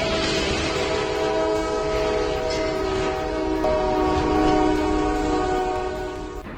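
A speeding train approaching a level crossing where a trailer is stuck, its horn sounding as a long steady multi-tone blast over continuous loud rail rumble, swelling slightly toward the end.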